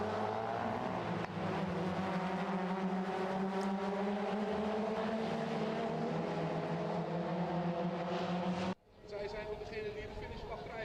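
Mazda MX-5 Cup race cars run at Circuit Zolder with a steady, loud engine drone and a commentator talking over it, cut off abruptly near the end before the engine noise resumes.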